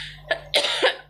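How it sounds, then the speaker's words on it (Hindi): A person with a lingering cough that keeps coming back lets out a short burst of coughing, two or three hoarse, close coughs in quick succession, with no talking. "खांसी नहीं जा रही है"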